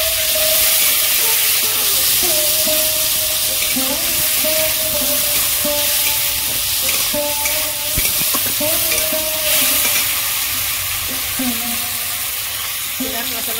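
Bay leaf, whole cumin and chopped tomato frying in hot oil, a loud steady sizzle and hiss with intermittent stirring scrapes, continuous and close throughout.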